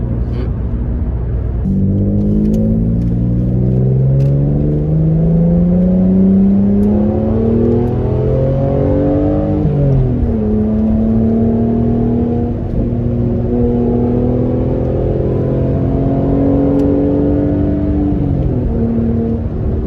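An Italian V6 four-wheel-drive car accelerates hard and steadily, the engine note climbing smoothly through the revs, dropping at a gear change, then rising again; loud, close and continuous, with no talk.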